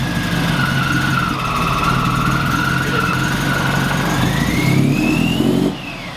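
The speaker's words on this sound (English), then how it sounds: "I don't know why it was bogging, but then it started to rev itself all the way up" A boosted Subaru BRZ engine runs loud and close, holding a steady tone that bogs slightly, then climbs in a rising rev before cutting off abruptly near the end.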